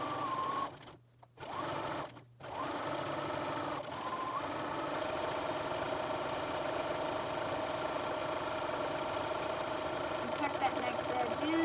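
A sewing machine top stitches the edge of a fabric face mask with close, steady mechanical whirring that pauses briefly twice early on and then runs continuously to the end.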